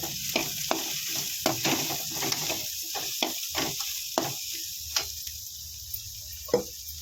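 Onions sauté in hot oil for onion rasam, a soft steady sizzle broken by intermittent scraping stirs, close and fairly quiet with no voices.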